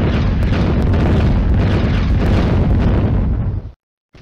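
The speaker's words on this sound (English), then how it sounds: "Shells blanket the ridgeline, and the 45mm anti-tank gun is destroyed" Artillery shells exploding across a ridgeline in the World War II Eastern Front game Firefight, June 1941: a continuous, heavy, rumbling barrage of overlapping booms for several seconds that then cuts off abruptly, with no voices.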